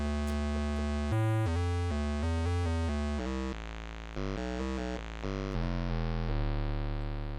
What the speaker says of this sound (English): What you're hearing is 1 oscillator.